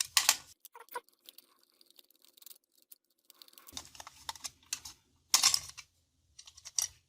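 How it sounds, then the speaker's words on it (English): A cover being unscrewed from an EU wall socket, soft close scratchy clicks and small plastic rattles in irregular bursts, fairly faint with quiet gaps between. "let's try first by unscrewing this."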